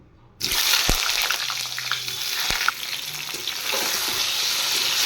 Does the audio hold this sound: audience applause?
no